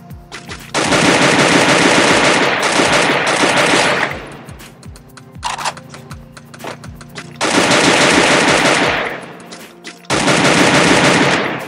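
Sustained automatic rifle fire in the mobile shooter Free Fire rattles in long, loud, close bursts, separated by short pauses with scattered single shots.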